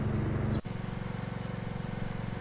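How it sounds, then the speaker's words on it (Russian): MTD Smart RG 145 garden tractor running while mowing grass, a close, steady engine drone with rapid regular pulsing and a brief thump early on. "Садовый трактор МТД Smart RG 145."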